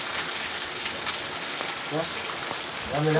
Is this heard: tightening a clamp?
no